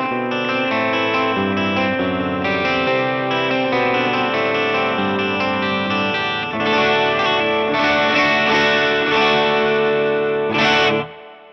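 PRS Hollowbody 12-string guitar played through its bridge pickup, with rich, chorused, sustained chords ringing continuously and loud, then ending in a brief strum and a quick fade.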